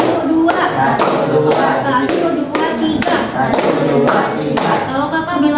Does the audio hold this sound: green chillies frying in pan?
no